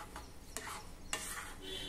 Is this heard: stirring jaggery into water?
yes